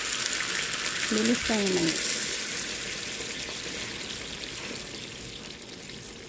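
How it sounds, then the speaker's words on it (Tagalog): Hot water is poured into a pot for a spicy sardines and patola dish, a soft, continuous splashing hiss with a short spoken phrase near the start that fades into a steady pour. "Lagyan natin ng mainit na tubig."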